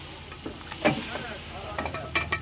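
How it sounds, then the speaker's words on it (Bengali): A pav bhaji mixture tipped into a hot kadai, giving a short burst of sizzling and stirring scrapes at close range with no voices. "এটা আমরা এবারে পুরোটাই দিয়ে দেবো কড়ার ভিতরে।"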